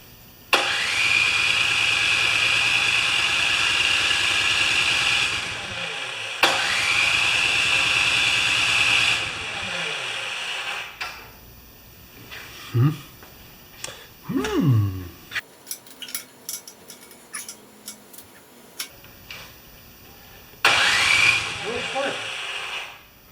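A Craftsman 24-inch snowblower engine fires up and runs loudly and steadily for several seconds, then cuts out into quieter handling noises before roaring back to life near the end.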